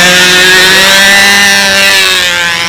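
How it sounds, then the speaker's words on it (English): A Windy B-25 model airplane with Venturi engines and propellers runs at an airfield, a loud, steady, high-pitched buzzing drone that holds close with a slight pitch drift and no talking. "This looks like this prop's working pretty decent."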